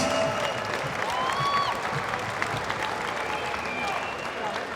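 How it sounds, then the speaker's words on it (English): Crowd applause for two BAMMA mixed martial arts fighters after a full three-round bout, a dense, steady wash of clapping and cheering from a large arena audience, with whistles and shouts rising above it throughout. "how about a big round of applause for both these fighters"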